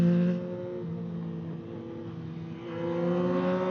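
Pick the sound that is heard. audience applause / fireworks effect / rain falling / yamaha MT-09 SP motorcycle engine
yamaha MT-09 SP motorcycle engine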